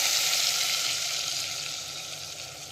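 Leftover frying oil from dhokli is poured into a curry, producing a loud, dense hiss of sizzling that gradually eases over a few seconds, close up with no talking.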